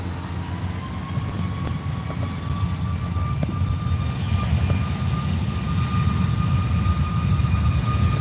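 A Ryanair Boeing 737 MAX jet roars through its takeoff roll at Manchester Airport, a steady broadband engine rumble with a rising whine that swells gradually louder over the whole stretch, with no voices.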